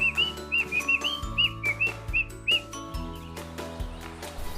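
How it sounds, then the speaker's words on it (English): A parrot gives a run of short, rising whistled chirps in quick succession, clear and close, tapering off midway as a steady low rhythmic background carries on beneath. "parrot."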